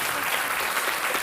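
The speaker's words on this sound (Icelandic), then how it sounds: "Skulum bara gefa ykkur öllum gott klapp fyrir þetta" Steady, dense applause from a studio audience on a televised Icelandic quiz show, with no voices over it and no change in level across the short burst.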